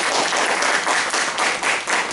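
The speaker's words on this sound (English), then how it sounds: "Let's have a big round of applause for our TA Modi" Audience applause at an office Toastmasters meeting, a short dense burst of many hands clapping together, steady and fairly loud from start to finish.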